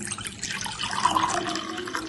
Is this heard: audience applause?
no